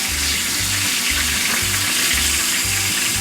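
Bullfrog frying in a skillet, a loud, dense sizzle and crackle of hot oil close up, with a steady low rhythmic thumping underneath throughout.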